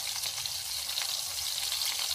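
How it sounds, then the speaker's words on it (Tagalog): Fish fries in a pan with a loud, continuous close-up sizzle and crackle, steady hiss with scattered pops throughout, and no voices over it. "Nagpiprito na ako ng isda."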